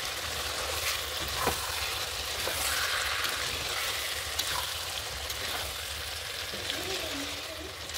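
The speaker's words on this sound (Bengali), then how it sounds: "এবার একটু নাড়াচাড়া করে দেব।" Chicken curry cooking with potatoes is stirred in a pan, a steady close sizzle broken by scraping and tapping of the spoon at irregular moments, with a few soft clinks.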